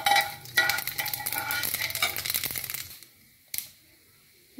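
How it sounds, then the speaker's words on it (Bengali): Mustard seeds and two slit dried red chillies frying in hot oil for a grape chutney, a busy crackling sizzle with stirring for about three seconds, then near silence with one short clatter. "এটা হালকা ভেজে নেব"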